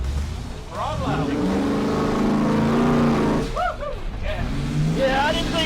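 A supercharged 454 Chevy K5 Blazer pulls through mud, its engine rising and revving loudly up close while people talk over it.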